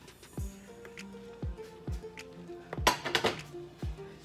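A utensil stirs sautéed onions and garlic into raw ground beef in a bowl, giving soft squishy thuds and light clinks of metal against the dish in an irregular rhythm.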